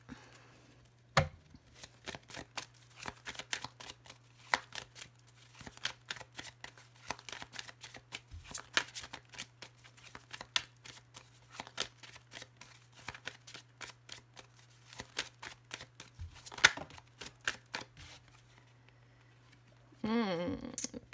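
A deck of tarot-style cards is shuffled by hand in bursts of crisp riffling and slapping, separated by short pauses across about twenty seconds, with a low steady hum underneath and a brief voice near the end.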